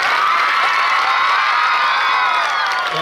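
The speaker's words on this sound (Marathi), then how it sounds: "पहिल्यांदा इथं जोरदार टाळ्या तुमच्या सर्वांच्यासाठी" A large audience at a school annual gathering erupts in loud, steady cheering, shouts and whoops, with clapping mixed into the dense, continuous crowd noise.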